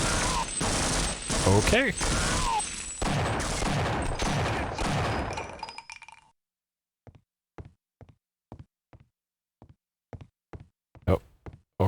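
Half-Life: Opposing Force game gunfire, a loud busy firefight with voices and effects for about six seconds, then a string of separate sharp single shots spaced in near silence, with a brief spoken word.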